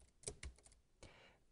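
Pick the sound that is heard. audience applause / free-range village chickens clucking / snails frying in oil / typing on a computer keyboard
typing on a computer keyboard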